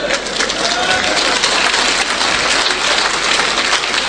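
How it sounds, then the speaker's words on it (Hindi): Audience clapping at a Hindi motivational talk, a dense steady wash of applause filling the hall for the whole stretch, with no break and no voices standing out. "तालियां बजा रहे हैं"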